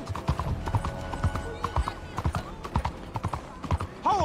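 Horse hooves clop along quickly in Red Dead Redemption 2, a near, steady run of thuds under frequent speech, with a short whinny at the end.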